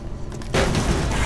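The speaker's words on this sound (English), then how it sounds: "Thank you for causing an explosion and not dying." A sudden loud explosion in the video game Doom 3 bursts in about halfway through, after a quieter stretch of game ambience, and its dense roaring blast carries on to the end with no talking.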